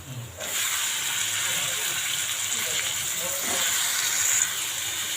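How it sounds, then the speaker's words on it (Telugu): Eggplant pieces hitting a hot pan with onion, ginger and garlic paste for a village-style eggplant and mango curry, bursting into a loud, steady hiss that holds throughout after a brief quieter start. "ఇప్పుడు వంకాయ ముక్కలు వేసేసుకుందాం మనం"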